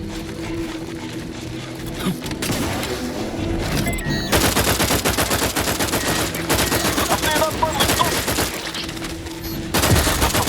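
Sustained automatic gunfire in The Outer Worlds 2 during an end-game fight: dense rapid bursts rattling almost continuously, loud and close, with short lulls and layered shots.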